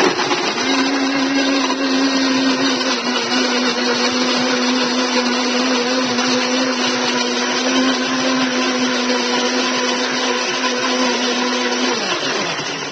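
Blender pulsing frozen strawberries for strawberry iced tea, a loud steady whir that runs for about twelve seconds with a constant motor pitch, then winds down at the end.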